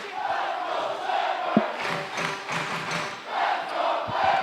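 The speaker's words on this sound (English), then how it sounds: "You can probably hear in the background the entire gymnasium representing Briarcrest and cheering for their boys." A packed gymnasium crowd at a high school basketball game roars and cheers in sustained waves, with an occasional thud from the court.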